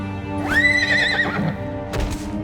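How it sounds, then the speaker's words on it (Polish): A cartoon fire unicorn lets out a loud, clear whinny that rises and wavers before trailing off, with a second short snort-like burst near the end. "To wszystko wyraził tym jednym rżeniem?"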